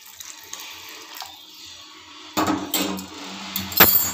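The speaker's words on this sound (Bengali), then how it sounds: "আমি গরম জলটা এর সঙ্গে অ্যাড করে দিচ্ছি" Hot water poured from a kitchen vessel into cabbage curry cooking in a pan, a near splashing pour of a few seconds with a clatter of utensil against metal, following quieter kitchen handling sounds.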